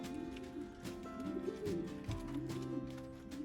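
Racing pigeons, late 2020 hatches, coo softly in a quiet loft, several rolling throaty calls overlapping at low volume with faint background shuffling.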